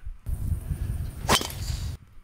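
A single sharp crack of a golf driver striking the ball, loud and close, with steady outdoor rumble before and after.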